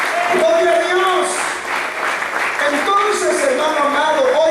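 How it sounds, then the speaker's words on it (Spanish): A church congregation claps during a Spanish-language sermon, the clapping soft and blended under singing or musical tones that keep going throughout. "Dele palmas si lo cree."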